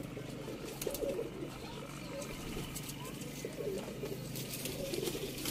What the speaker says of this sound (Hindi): बहुत ही नायाब टैडी कबूतर।